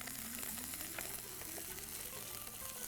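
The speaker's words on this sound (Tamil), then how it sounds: "லவங்கம், கொத்தமல்லி, வெங்காயம் 2 கை போட்டு நல்லா வதக்கிடுவோம்" Cloves, coriander and onions sautéing in a pan, giving a steady, moderate sizzle and fry crackle with faint stirring, continuous throughout without voices.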